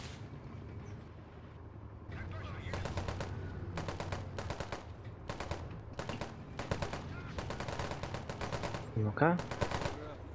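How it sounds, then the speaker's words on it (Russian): Soldiers fire guns in Men of War: Assault Squad 2, during the 1992 A Dying World mission: repeated rapid machine-gun bursts rattle in loud clusters, with a short spoken interjection near the end. "Бойцы стреляют в пол."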